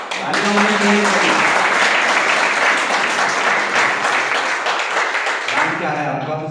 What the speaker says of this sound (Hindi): तालियां तालियां होनी चाहिए।